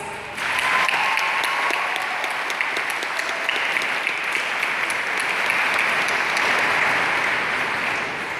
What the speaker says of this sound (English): you all deserve a round of applause from our graduating class